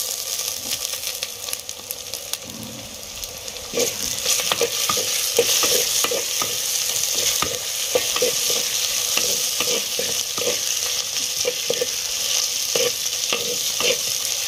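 Steady sizzling of masala and tomato frying in a clay pot for chicken masala, with repeated scraping and stirring strokes throughout; no talking.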